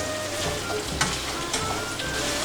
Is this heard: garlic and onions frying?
yes